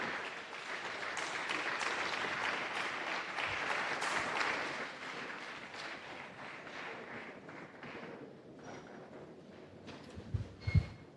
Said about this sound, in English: Can we applaud my principal?